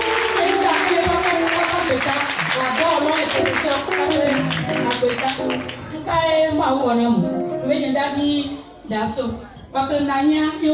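A congregation at a prayer camp claps and applauds in a dense, continuous wash of hand claps that sits under a loud, emphatic voice speaking over it throughout.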